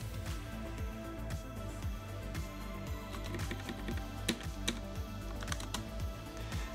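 Computer keyboard keys are pressed during video editing: a steady stream of close, quiet clicks with occasional louder taps and no talking.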